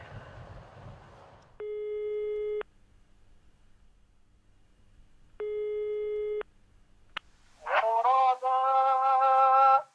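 Telephone line tones while calling an answering machine: two separate one-second electronic ringback tones with silence between, a brief click, then an automated voice begins speaking.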